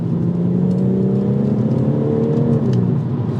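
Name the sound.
BMW M140i B58 engine accelerating in 4th gear, Osprey V3 intake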